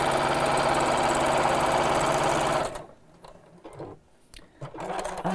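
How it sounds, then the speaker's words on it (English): A sewing machine stitches over the lines of a fabric door storage pouch, its loud, rapid mechanical whir running steadily, then stopping abruptly, leaving quieter handling noises and a brief restart. "So I'm just going to sew over all of these lines."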